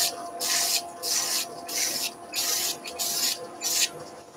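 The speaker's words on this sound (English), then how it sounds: "Remember, the center of the sanding disc is moving slower, so it will give you a slower cut." A turned wooden table skittle is pressed against a spinning sanding disc in bursts, giving repeated gritty, hissing rasps of about half a second each, roughly seven in a row with short pauses between, close and fairly loud.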